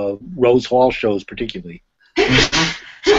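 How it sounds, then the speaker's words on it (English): A woman sneezes sharply in the background, a single brief burst between stretches of someone talking nearby. "that was my wife sneezing in the background"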